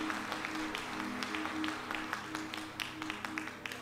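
A church congregation at a Sunday service applauds visitors with soft, scattered clapping, faint and somewhat distant over a steady low hum.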